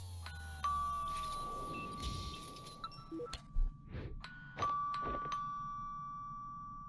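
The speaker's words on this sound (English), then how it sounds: "A doorbell?" A doorbell chimes twice in a ding-dong pattern in the video game Imposter Factory, fairly faint, with each ringing tone trailing off amid light clinking game sounds and no talk.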